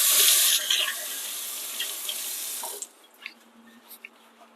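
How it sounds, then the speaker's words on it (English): Hands washed under a running kitchen tap at a sink: a loud steady rush of water for almost three seconds, then the flow stops, leaving faint drips and soft handling sounds. "Need to wash my hands after that though."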